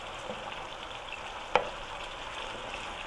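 Garlic shrimp with parsley and champagne vinegar frying in a pan, a faint, even sizzle running throughout with one brief utensil tap near the middle.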